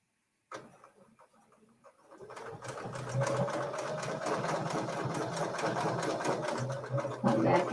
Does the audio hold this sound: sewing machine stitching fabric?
yes